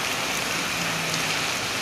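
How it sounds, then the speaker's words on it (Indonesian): Rain pours steadily at night on buses waiting at the Sumbar-Jambi border, a dense, even hiss of falling water with no break and no voices. "Ini diguyur hujan ya."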